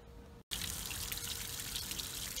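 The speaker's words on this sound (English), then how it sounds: "I got the water running, the muffs are on it" Water from a garden hose rushes steadily through flushing muffs clamped on a boat engine's lower unit, a loud continuous hiss that starts abruptly after a brief gap, with no talk.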